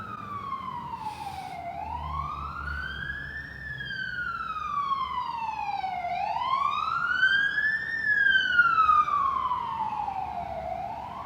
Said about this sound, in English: Let this ambulance go by.